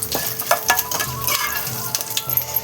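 Cumin, curry leaves and dried red chilies fry in hot oil while being stirred, giving a close, crackling sizzle broken by spatula scrapes and clinks against the pan, with no talking.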